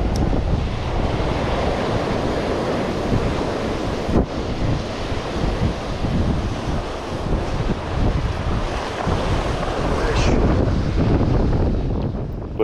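Strong south wind buffeting the microphone at a Long Island jetty, with steady roaring gusts and surf washing continuously for the whole stretch, no talking.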